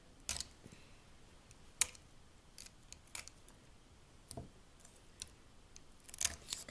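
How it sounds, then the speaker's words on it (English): Quiet scissors snip through duct tape while corners are cut out for a light switch plate. There are several sharp separate snips at an irregular pace with near silence between them. "Just cut out your little corners, just like this."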